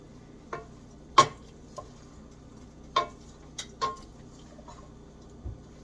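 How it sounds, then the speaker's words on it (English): Brine and half a cup of lime juice being stirred in a container: a few sharp, sparse clinks and taps of a utensil against the side, irregularly spaced, close and fairly quiet, with no talking. "Get that all stirred in."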